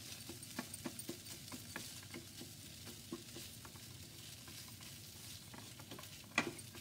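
Spiced street-food mixture being stirred and mashed in a pan while it cooks, giving a steady patter of scraping and soft sizzling, with one sharper clack near the end.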